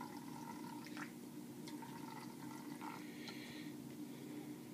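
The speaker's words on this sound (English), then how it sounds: "Go ahead and pour some of that into the stove here." HEET fuel from a yellow bottle is poured into a Stanley camping cook set stove indoors, giving a soft, continuous trickle and splash of liquid with faint dripping accents over a steady background hum.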